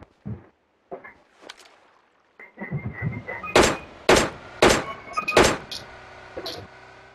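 Gunfire in PUBG on the Erangel map comes as sharp cracks, first a few isolated shots and then a denser run of loud reports with echoing tails.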